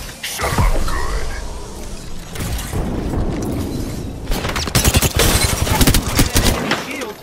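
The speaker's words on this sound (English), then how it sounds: "Opening fire." Rapid gunfire and explosions from the video game Apex Legends, loud bursts and booms dense toward the end, with a voice briefly speaking over the action.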